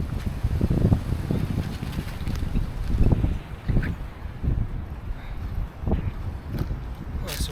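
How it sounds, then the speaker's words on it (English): Gusty winter wind at a wild campsite buffets the microphone in rough, uneven surges, close and loud, while someone talks over it. "Well, it's a windy old day."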